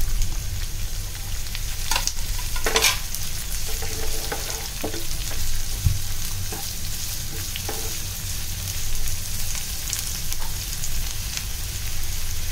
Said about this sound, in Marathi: मोठा कांदा लाल होईपर्यंत आपल्याला परतून घ्यायचा,